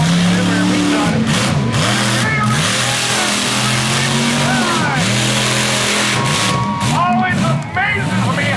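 A monster truck engine at a speedway revs hard in repeated rising and falling surges as the heavy truck spins circles, loud and close with a voice talking over it.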